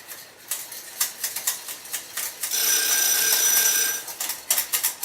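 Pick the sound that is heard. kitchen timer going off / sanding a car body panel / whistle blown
kitchen timer going off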